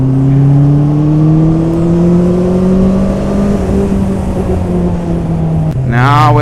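A 2021 Honda CB650R motorcycle runs in fourth gear on a race track, its engine droning loud and close with a slowly rising pitch, then a sharp shift and a fresh rev at the end.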